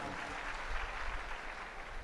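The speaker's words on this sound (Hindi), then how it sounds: "ताली बजाकर धन्यवाद दें।" Audience applause at a spiritual discourse gathering, a steady dense wash of clapping that holds at an even level for about two seconds with no break.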